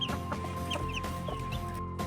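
A hen clucks close by in short, repeated bursts, soft and rhythmic, with a little background rustling.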